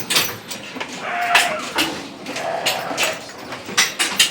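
Young goat kids bleat repeatedly at a livestock market with shops around, giving short, wavering cries of moderate loudness over a busy background murmur.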